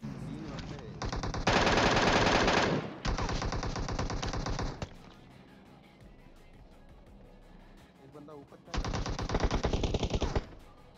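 Automatic gunfire from an MK14 rifle in the mobile game PUBG Mobile rattles out in long sustained bursts, loud and close, with a quieter gap where someone talks before another extended burst.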